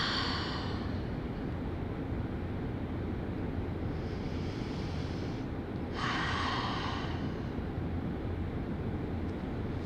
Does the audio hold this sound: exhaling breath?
yes